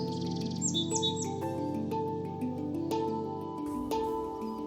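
A wild bird sings in the hills of Northern California above an urban area, its clear tonal chirps and whistled phrases close and distinct over a faint steady hum.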